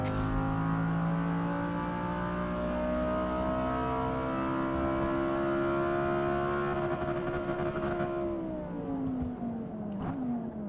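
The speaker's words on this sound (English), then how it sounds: "I was just listening to the engine." A car engine drones steadily in the Gran Turismo 7 racing game, holding a high sustained rev before the pitch sags and shifts near the end.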